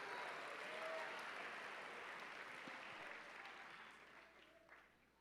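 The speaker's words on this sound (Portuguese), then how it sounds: "Você consegue misturar glória e aleluia enquanto você aplaude?" Church congregation applauding during a sermon, a dense, steady wash of clapping that holds evenly and slowly fades toward the end, with no voices over it.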